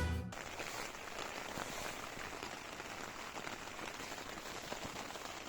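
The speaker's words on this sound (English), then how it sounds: "It's raining." Steady rain patters on a surface while camping in the UK, a dense, even hiss of drops that continues throughout without pause.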